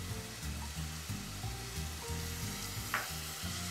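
Sliced white onion sweating in extra virgin olive oil for a bean purée, a soft steady sizzle and hiss close by, with a low background music-like pulse underneath and no talking.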